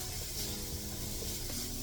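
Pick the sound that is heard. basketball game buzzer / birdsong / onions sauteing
onions sauteing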